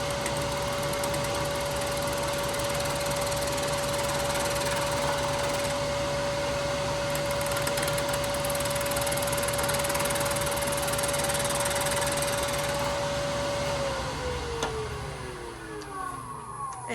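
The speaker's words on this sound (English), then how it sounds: "I'll turn the speed up to make a finishing cut." A wood lathe spins up to a higher speed for a finishing cut, giving a steady whining motor tone with cutting noise over it, then the pitch drops as the spindle slows near the end.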